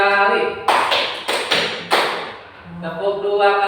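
A group of people attempts a single clap together in a classroom-style activity. Several sharp claps land slightly out of sync in the middle, with voices talking before and after.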